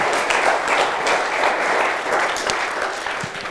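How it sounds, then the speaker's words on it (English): Audience applause at the close of a talk on light and healing with Dr. Jacob Liberman, a dense, steady round of clapping that slowly tapers off over several seconds. "One more round of applause for you."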